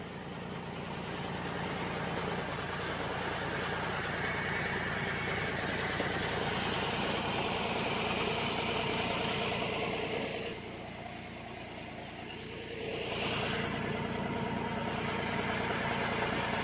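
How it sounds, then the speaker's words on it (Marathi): A steady tractor engine drones at an even idle during pesticide spraying, fairly close, with a brief dip in level midway before the running continues; no talking. "चालू आहे कीटकनाशक फवारणी"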